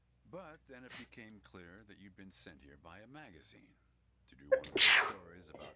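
A single loud, sharp sneeze from a game character in the adventure game Hitchhiker bursts out close up just after a stretch of calm narrated speech.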